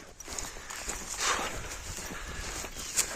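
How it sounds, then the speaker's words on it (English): Horses on open hill country along the Antrim Hills Way walk close by, their hooves giving a soft, uneven clip-clop against steady outdoor wind, fairly faint and with no talk. "Even these horses scare me."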